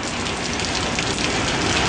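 Heavy rain pours steadily in Mersin, a dense continuous hiss of downpour with no pauses and no voices.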